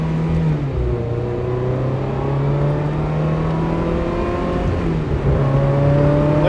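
A 1999 Ferrari 355 Berlinetta F1 mid-engine car is driven with its windows down, its engine revving loud and close as the pitch climbs steadily and then drops with each gear change.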